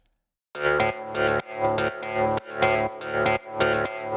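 A synth chord pulses in repeated swelling stabs, roughly every half second, with a grainy noisy texture from wide noise erosion around it, in a deep progressive house track.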